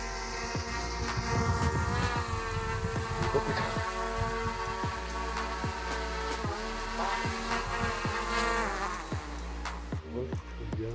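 A DJI Mini 3 Pro drone hovers close by ahead of a hand catch, its steady high-pitched insect-like whine holding at a constant loud level throughout with a rhythmic low thumping underneath.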